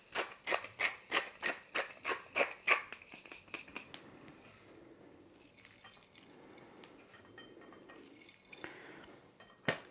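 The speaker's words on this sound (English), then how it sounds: "I'm going to beat it up with a fork until everything is thoroughly combined" A fork rapidly beating eggs with oil, salt and pepper in a bowl, a quick run of about ten sharp rhythmic clinks followed by softer, irregular stirring and scraping.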